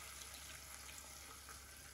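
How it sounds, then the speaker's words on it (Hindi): Water is poured into a frying pan of koftas as they cook, giving a faint, steady splashing hiss that runs evenly for two seconds. "यहाँ पे मैं थोड़ा सा पानी ऐड कर दूंगी।"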